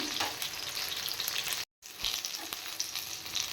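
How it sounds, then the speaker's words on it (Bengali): Fritters (bora) for ridge gourd kalia sizzle and crackle in hot oil, a close, continuous frying hiss broken by a brief moment of silence. "এখনও ভালো ভাজা হয়নি আর একটু ভেজে নিতে হবে"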